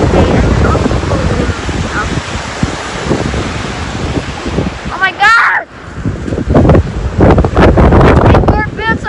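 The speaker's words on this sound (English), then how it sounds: "the waves are really big and it's also cold" Strong wind buffets the microphone while big waves crash on a cold lake shore, a steady roar with surf surges throughout. A voice briefly exclaims partway through.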